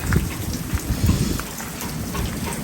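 Steady rain falls at a boatyard during a cold, windy haul out, a close, continuous patter with scattered heavier drops and gusty rumbles underneath.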